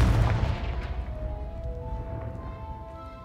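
A Confringo blasting spell explodes in Hogwarts Legacy, a single close, heavy boom that rumbles and decays over about three seconds.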